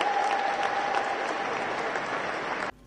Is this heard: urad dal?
no